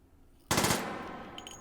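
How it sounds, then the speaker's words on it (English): A rapid four-round burst from a gun in Hot Dogs, Horseshoes & Hand Grenades: four sharp, closely spaced shots at close range, followed by a decaying ring and faint mechanical clicks. "Beautiful, 4-round burst"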